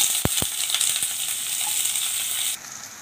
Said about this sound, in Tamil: வெங்காயம் சேர்த்துடலாம்.